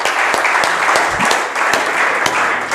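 A church congregation claps as an offering of acclamation, producing loud, sustained applause with many overlapping hand claps, dense and continuous throughout, with no voices standing out.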